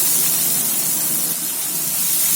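Chopped onion, ginger, cumin and asafoetida sizzling in hot oil in a pan, a steady loud hiss with fine crackle throughout.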